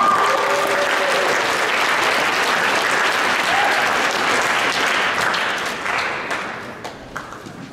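Applause fills a hall for second-place winners at a student science fair awards ceremony, holding strong and full before thinning out and fading toward the end.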